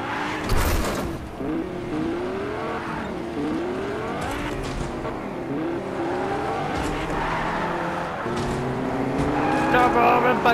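Cars driving fast in the Fortnite video game, engines revving and tires squealing continuously over background game sounds, with someone talking excitedly throughout.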